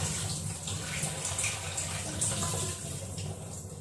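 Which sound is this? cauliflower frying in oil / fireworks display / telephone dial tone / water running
water running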